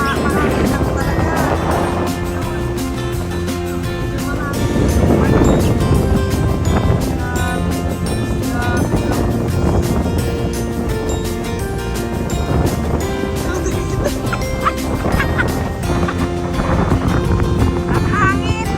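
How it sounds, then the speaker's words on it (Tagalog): Strong gusts buffet the microphone on a Boracay beach, rumbling and roaring in waves, with surf and boat sounds and voices mixed in. "Mahangin lang talaga."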